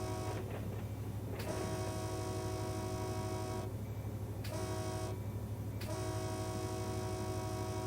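A diesel freight locomotive in Run8 Train Simulator drones steadily with a low engine hum while its horn sounds in several long blasts separated by brief gaps, all fairly quiet and without talk.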